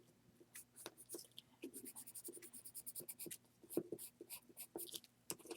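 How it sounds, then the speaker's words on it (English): A reddish-brown colored pencil shades a paper doll's hair in quick, close, scratchy strokes that come in short rhythmic bursts, with no voices. "I'm going to go ahead and color her hair in with kind of a reddish brown"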